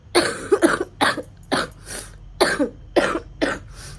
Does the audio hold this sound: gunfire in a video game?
no